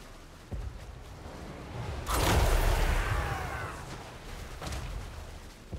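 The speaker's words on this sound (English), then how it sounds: "I've already got flame cannons and normal cannons" A cannon volley in a Total War: Warhammer 3 battle, a dull distant boom swelling into a long rumbling roar that slowly fades, with fainter thuds around it and no talk.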